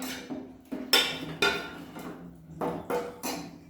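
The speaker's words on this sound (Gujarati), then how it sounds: "હવે આપણે એને હલાવી દઈશું" Pav bhaji with beetroot and carrot is stirred in a pan with several distinct metallic clanks and scrapes of the spoon against the pan, close and clear, with quiet gaps between strokes.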